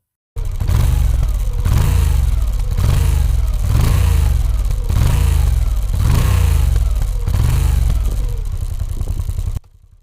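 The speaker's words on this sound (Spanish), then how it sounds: "Vamos a escucharla un poquito más el motor, venga." A Moto Guzzi V7 Stone motorcycle engine idles alone, with a low, steady pulsing throb. The beat swells and eases regularly about every second as the engine runs evenly throughout.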